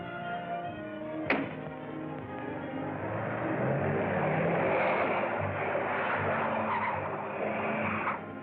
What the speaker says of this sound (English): Car heading south.